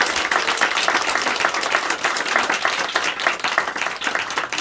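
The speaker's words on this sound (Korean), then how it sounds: "우리 박수로 환영하겠습니다" Applause from a church congregation welcoming a newly registered member, steady dense clapping from many hands filling the room at close range, with no voices over it.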